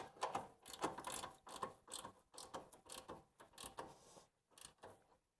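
A hand ratchet tightens a ball joint bolt on a Mercedes W163 suspension, a run of quick rhythmic clicking bursts separated by short pauses, close and quiet.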